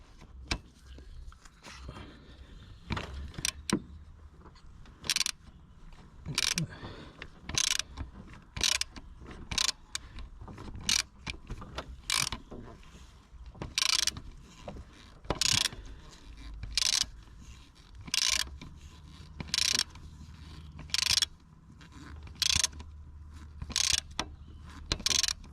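A ratchet tightens a fuel injector bolt on a Peugeot 407 2.0 HDI in quick rasping bursts of clicks, repeated about twenty times at a steady pace, close and clear in a quiet space.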